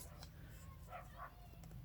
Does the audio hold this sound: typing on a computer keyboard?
no